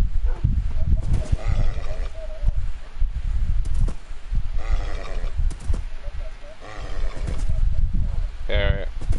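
A horse in Minecraft, short whinnying neighs popping up a few times among chatter, with people talking throughout.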